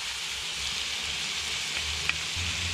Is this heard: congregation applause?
no